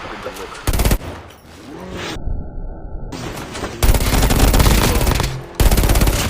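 Rapid bursts of automatic gunfire from the mobile shooter Call of Duty: Mobile, game-style shooting effects, loud and close, broken by short pauses and a muffled stretch.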